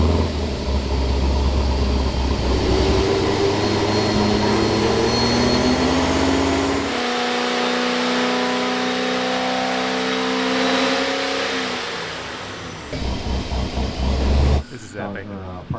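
A Honda S2000 with a stick shift, a record-holding build making over 2,000 horsepower, runs on a dyno at part throttle. Its loud engine drones steadily and then climbs in pitch before cutting off near the end.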